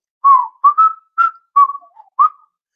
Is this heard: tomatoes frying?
no